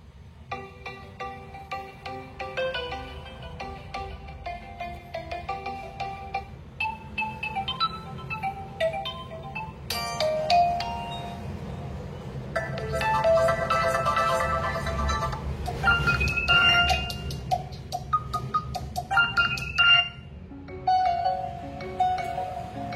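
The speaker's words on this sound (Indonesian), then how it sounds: "Kita coba untuk memutar ringtone bawaan dari Realme." A Realme 13 smartphone's default ringtone, a bright electronic melody, plays loudly at near-full volume, repeating its tune several times with clear, sustained tones over a low background rumble.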